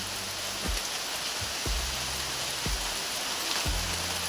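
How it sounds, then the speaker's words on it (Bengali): Steady, dense rain hissing across the whole clip, with a few low dull thumps spaced about a second apart beneath the downpour. "জোরে বৃষ্টি চলে এসছে"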